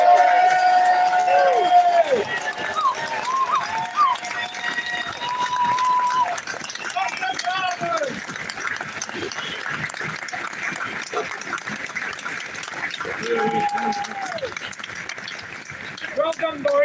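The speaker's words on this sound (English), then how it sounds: "We want a massive round of applause for everyone that's started this and made it happen." Outdoor crowd at a farmers' protest in London, cold and wet, breaking into sustained applause and cheering, a broad wash of claps and shouts with a voice calling out over the noise.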